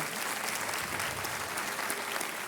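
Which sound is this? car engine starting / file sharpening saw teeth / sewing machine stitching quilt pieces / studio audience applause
studio audience applause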